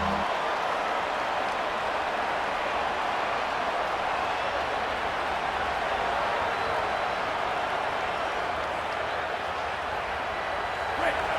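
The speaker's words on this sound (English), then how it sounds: "Here comes this home crowd as the defense tries to get off the field on 3rd down" Steady roar of a home crowd cheering in a college football video game during a third-down defensive stand, a constant wash of noise that holds level throughout.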